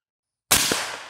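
A single sharp gas gun shot without a suppressor cracks out of silence, loud and close, followed by a short decaying ring.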